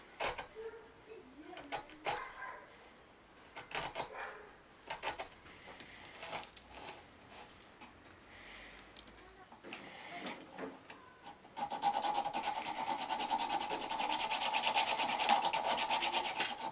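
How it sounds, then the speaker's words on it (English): A rasp files a bone blank into a nut for a cigar box guitar, starting with intermittent scraping strokes and ending in a steady, louder continuous rasping, close up in a quiet workshop. "That's the first bone blank I've ever shaped into a nut"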